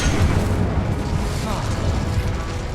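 Incendio fire spell in Hogwarts Legacy combat: a loud, continuous roaring whoosh of flame with a deep rumbling low end, sustained and dense throughout with barely any breaks.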